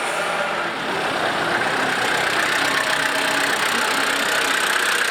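A 1980 Mitsubishi Jeep diesel engine idling steadily, a continuous loud rumbling drone with a slight rattling texture, heard up close without talk.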